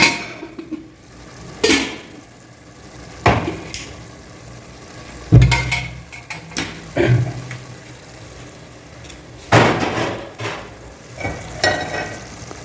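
Curd being stirred into mutton gravy in a pot, with repeated scraping strokes and wet sloshing bursts at irregular intervals over a faint simmering background.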